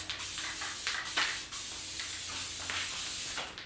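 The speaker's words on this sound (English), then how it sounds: "I'm gonna spray a little bit more" Spray adhesive hisses onto a DIY board game tabletop in several bursts, a loud close hiss with brief breaks between pulls of the nozzle.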